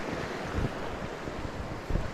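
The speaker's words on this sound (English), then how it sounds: "There's the river." A river rushes beside a snowy winter trail on the Berg Lake route, a steady broad hiss of flowing water mixed with wind noise, with no voices.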